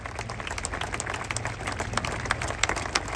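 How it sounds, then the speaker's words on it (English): Outdoor crowd applause at the Braemar Gathering in Aberdeenshire as the King and Queen arrive, a steady dense patter of many hands clapping at moderate level with scattered sharper claps and no talk over it. "Yes, keep up that applause for them all."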